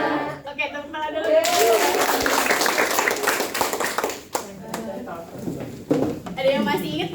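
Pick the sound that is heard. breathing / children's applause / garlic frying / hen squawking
children's applause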